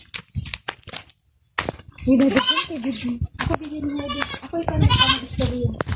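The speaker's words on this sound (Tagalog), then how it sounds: "Puro pala kambing." Several goats bleat in overlapping, quavering calls amid clicks and shuffling, fairly close, after a few short knocks at the start, at Tubajon Aquamarine Park.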